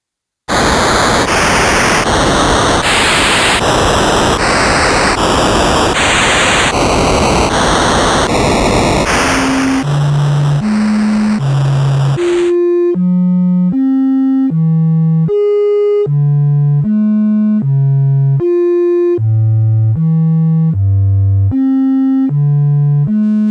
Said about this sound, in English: let's hear how this oscillator sounds